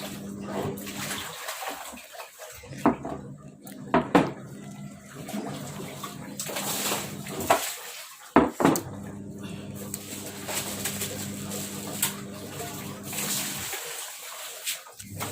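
Vegetables being washed by hand in water outdoors in sunlight, with a steady sloshing and splashing wash, irregular louder splashes and brief pauses, and birds cooing in the background.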